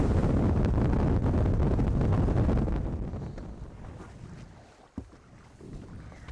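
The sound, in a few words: wind blowing over water on the flats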